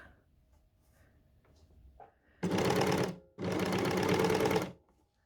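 An overlocker serger stitches a T-shirt in two sustained bursts of dense, rapid whirring, with a short pause between them, after quiet handling sounds at the start.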